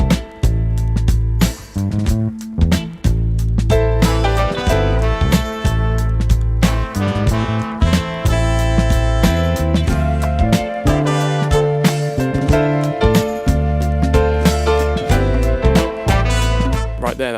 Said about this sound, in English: I've now got a drum kit that sounds like a sample break